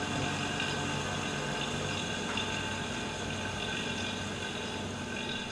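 A JAVAC Konfort 760 refrigerant station fills a vessel through a connected hose, making a steady, even hiss and pump hum that runs throughout at moderate level with no talking.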